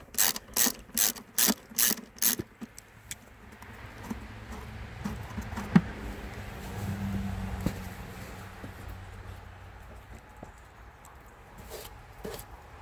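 A ratchet clicks as it backs a 3/8 inch bolt off the belt cover of an Ariens snowblower, starting with a loud run of rapid, evenly spaced clicks, then quieter scraping and handling noises, and a few more clicks at the end.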